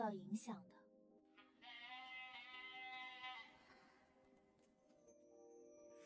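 Sheep bleating in a quavering, harmonic run, with a shorter call at the start and a longer sustained bleat in the middle, fairly close over quiet background.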